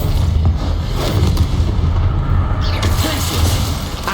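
A Bombarda spell explosion in the video game Hogwarts Legacy, loud booming blasts that roll into a dense, sustained rumble of battle noise.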